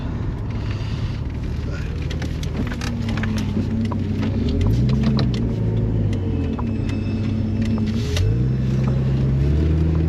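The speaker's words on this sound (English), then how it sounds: "We'll do a spin around and then give it a little tickle up the road" A turbocharged Holden VL car accelerates up a road, its engine note climbing through rising revs with a gear change and a second surge, loud and close, with voices over it.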